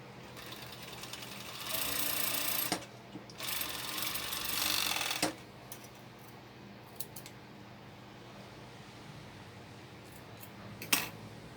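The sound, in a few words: sewing machine stitching croptop pieces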